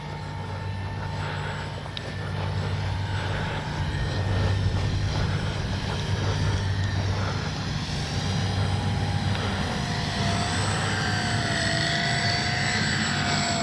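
A Dynam Bf-109 radio-controlled warbird model flies on its maiden flight outdoors, its propeller motor whining steadily with shifting pitch as it passes, fairly loud and continuous without talk.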